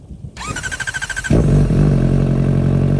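A motorcycle fitted with a new aftermarket exhaust pipe starts with a whirring starter crank, then catches and runs loud and close, with a deep, steady, throaty exhaust note.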